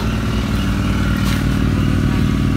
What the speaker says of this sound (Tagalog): sound check tayo ng may silencer